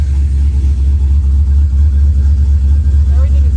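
Chevrolet F-body V8 engine idling too high after a fuel-rich start, a loud, steady low rumble with a constant drone throughout, close by, no talking.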